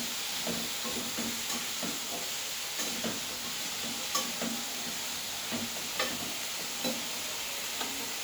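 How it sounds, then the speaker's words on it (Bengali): Vegetables frying together in a pan for a paneer dish, with a steady bright sizzle and repeated soft scraping and stirring knocks spread through the clip. "এবার আমি সমস্ত সবজিগুলোকে একবারে ভালো করে ভেজে নিচ্ছি।"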